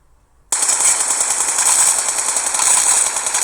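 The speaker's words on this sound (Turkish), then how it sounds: "Bak şimdi nasıl sprey atacağım arkadaşlar." Sustained automatic gunfire spray in a first-person shooter video game, a dense unbroken burst starting abruptly after a brief quiet moment and staying loud and close to the end.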